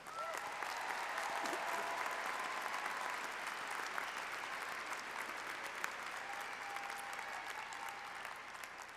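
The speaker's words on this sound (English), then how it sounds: "Would the audience join me in applauding our newest doctoral graduates?" Sustained applause from a large audience fills a university fall commencement ceremony as new doctoral graduates are honored, a steady even wash of clapping lasting throughout with a faint murmur of crowd beneath.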